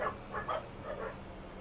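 Faint dogs bark outdoors in a few short, muffled woofs under a low steady hum, distant and indistinct.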